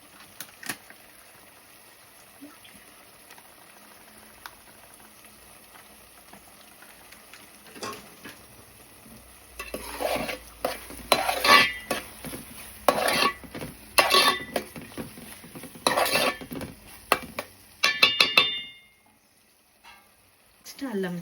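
Onion paste and chopped onions fry in a pan for a spicy fish curry, a spoon scraping and clattering in bursts of stirring after a quiet stretch, with faint sizzle beneath.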